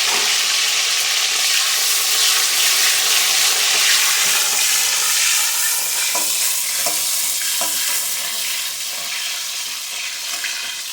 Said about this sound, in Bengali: আমার উচ্ছেটা হালকা করে ভেজে নিয়েছি